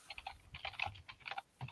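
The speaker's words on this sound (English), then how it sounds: "Loud typing noises." Loud typing on a computer keyboard comes in quick bursts of sharp key clicks, close and clear, with short pauses between clusters and no speech.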